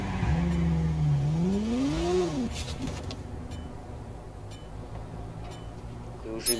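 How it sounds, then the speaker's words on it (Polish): A motorbike in the video game Watch Dogs revs up with a rising, then falling engine whine over the first couple of seconds, before settling into a lower, steady rumble mixed with other game sounds. "wskakujemy na motor i hakujemy"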